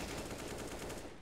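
Rapid pistol gunfire from the Counter-Strike video game, a dense, loud, continuous burst of overlapping shots.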